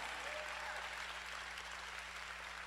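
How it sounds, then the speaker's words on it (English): Steady applause from a crowd, a dense wash of clapping that stays even and fairly distant throughout. "let's give Push Excel, Rainbow Push, and Toyota a big round of applause."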